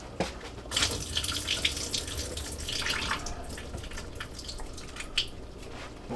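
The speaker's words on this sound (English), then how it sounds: "We're gonna drain all this water off." Water from a canned of green peas pours off steadily into a sink, a continuous close splashing trickle with small drips and no voices.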